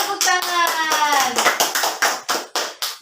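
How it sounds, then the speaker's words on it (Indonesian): Students in a classroom clap together. A voice talks over the opening second, then a run of sharp, rhythmic claps follows at close range, each one distinct. "beri tepuk tangan"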